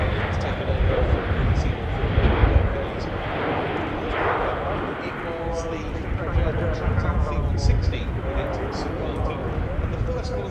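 A German Air Force Airbus A400M Atlas turboprop roars continuously through a flying display at an airshow, a broad sustained engine rumble throughout.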